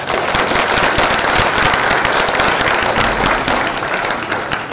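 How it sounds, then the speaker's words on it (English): A conference audience applauds loudly and continuously, with dense, crackling clapping that stays steady before easing off slightly at the end. "please give them a warm round of applause"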